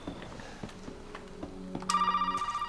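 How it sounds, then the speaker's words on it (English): In the Resident Evil 7 video game, an old telephone suddenly starts ringing with a bright, trilling electronic ring, following a few quiet thumps and creaks of ambient game sound. "Oh, we were until the phone rang."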